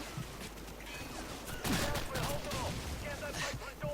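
Gunfire aimed at the player in Call of Duty 4, scattered bursts and volleys of shots crackling over a busy game background, with a loud cluster in the middle.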